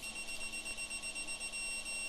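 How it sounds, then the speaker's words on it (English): A sustained high-pitched electronic beep tone from an RC drift car transmitter holds steady for about two seconds, clear and close with no other sounds. "and the beep will get longer."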